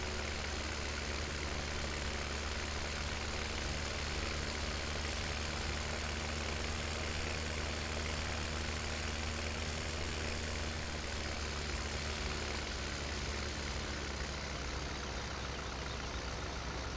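A windrower's engine in Farming Simulator 17 runs as a constant low drone with a steady mechanical hum, unchanging and fairly quiet, with no voices.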